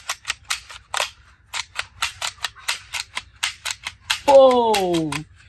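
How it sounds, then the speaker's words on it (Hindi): A toy military shotgun fires a rapid run of sharp cap-gun-like cracks, loud and close, ending in a descending electronic tone. "ये है मिलिट्री शॉर्ट गन"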